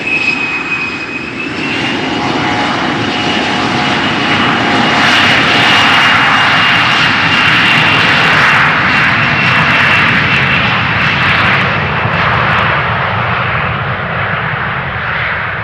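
A jet airliner roars down runway 36L at Amsterdam Schiphol on departure, the engine noise loud and close, swelling into a sustained broadband roar with a high whine before easing slightly toward the end.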